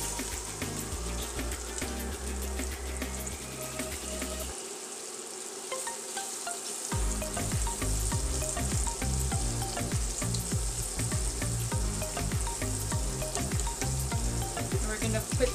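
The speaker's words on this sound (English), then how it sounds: "we're gonna add our onions" Onions sizzle and fry steadily in a hot pot while browning for a beef pot roast, with loud continuous crackle, a brief quieter pause, then stirring and scraping as the sizzle resumes.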